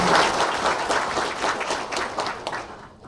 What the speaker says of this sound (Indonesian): Kita berikan tepuk tangan dulu dong